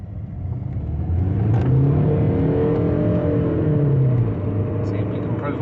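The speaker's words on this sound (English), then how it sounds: "let's see how the revs are going." Close, loud revving from a Skoda Fabia 1.6 TDI diesel engine after a roadside particulate filter cleaning, rising twice and easing back between pulls over a steady rumble.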